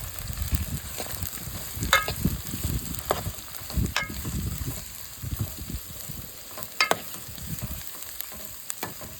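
Onions sautéing in plenty of oil for a Vanjaram dry fish sambal, a continuous sizzle with the scrape and clatter of a spoon stirring the pan, close and busy, with no one talking.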